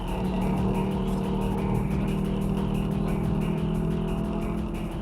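A race car engine on a circuit, a continuous close, loud drone with buzzy harmonics and slight pitch shifts, heard from on board without talk.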